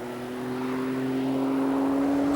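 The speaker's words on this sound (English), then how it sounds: "And then in fourth gear, we're already up to 140 before we need to brake heavily down into this tight chicane." A 1992 Jaguar XJ220 sports car accelerates hard on a track, its engine revving loudly with a steady rising tone that builds over a couple of seconds, heard alone with no voices.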